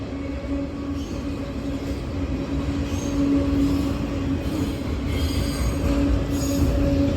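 A freight train's railcars roll steadily past at close range, making a continuous loud rumble with clanking wheels and faint intermittent squeals, and no voices.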